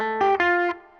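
Electric guitar octave riff played a whole step down to F, two quick distorted, effects-laden octave notes ringing out with a short sustained tail, close and clear with no talking.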